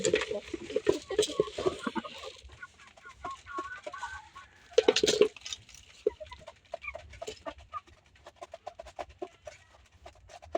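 Two-month-old chickens cluck nearby while rapid pecking taps patter on a surface as they eat feed, mixed with occasional louder squawks.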